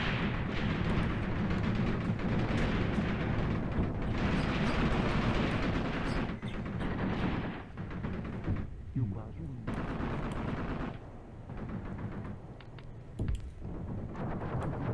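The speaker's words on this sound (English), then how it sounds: "they're firing right there at the edge, trying to stop us from pushing in" Artillery fire in a South African Border War video game lands close by, a loud, sustained barrage of booming blasts and rattling gunfire that swells and drops in bursts across the whole stretch.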